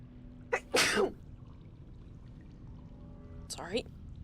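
A sharp, close sneeze bursts out, preceded by a quick inhale and followed a few seconds later by a second shorter sneeze-like burst, both standing alone against a quiet room hum.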